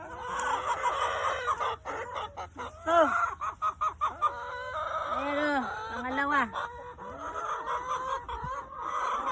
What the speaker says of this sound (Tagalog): Ang ingay ng mga manok ko.